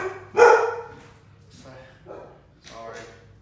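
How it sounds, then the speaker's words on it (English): A dog barks sharply once, then gives a couple of softer yips, close by. "That's my dog barking."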